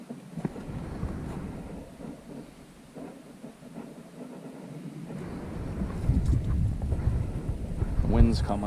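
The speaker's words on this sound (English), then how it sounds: "The wind's coming up." Wind gusting outdoors at a rifle range, a broad low rumble and buffeting against the microphone that swells and grows louder toward the end, with faint voices in the background.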